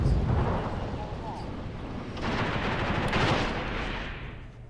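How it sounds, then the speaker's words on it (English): Anti-aircraft gun fire in a war video game set in the Angolan Civil War, a dense continuous rumble of bursts and battle noise that swells midway, with speech-like voices mixed into the din. "Oh my god, I think that's an AA gun."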